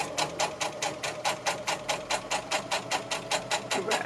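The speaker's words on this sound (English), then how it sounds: "I'm pulling the fabric a little bit tight as I sew" A sewing machine stitches fabric for a journal cover, a fast even run of rhythmic mechanical thumps at close range, quiet and unbroken by talk.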